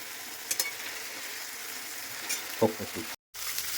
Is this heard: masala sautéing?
yes